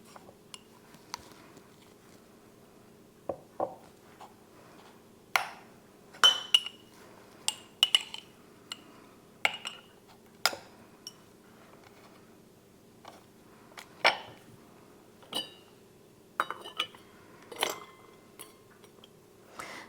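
A spoon scoops cooked sausage into glass canning jars for pressure-canned meal-in-a-jar soups, making a run of light clinks and taps against the glass that come unevenly and close at hand in a quiet room, with no one speaking.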